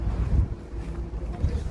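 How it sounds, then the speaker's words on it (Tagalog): Strong wind buffets the microphone in the harbour of Mariehamn, Åland, a steady low rumble with gusty surges, close and loud, under faint talk. "Pero lakas ng hangin dito"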